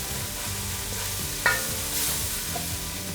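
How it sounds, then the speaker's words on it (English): A spice blend sautés in oil with onion in a pan for Kerala chicken curry, giving a steady close sizzle with a sharp scrape of stirring partway through. "Saute all that spices together."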